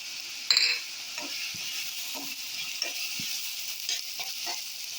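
Chili powder tipped into a sizzling fish curry masala and stirred, an initial clatter followed by steady frying hiss with intermittent scrapes of a spoon against the pan, no talking.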